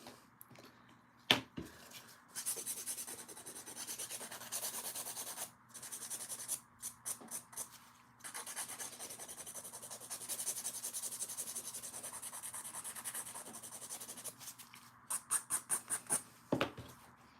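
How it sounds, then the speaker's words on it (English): Light nail filing around the nail edges during a dip-powder manicure, soft scratchy rubbing strokes with short rhythmic bursts near the end, quiet and close with no talk. "Just some light filing around the edges."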